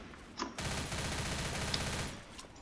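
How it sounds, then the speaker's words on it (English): Gunfire in the Left 4 Dead video game: a sustained, dense barrage of shots lasting about a second and a half, loud and close, after a brief sharp pop, with no talking. "someone just shot"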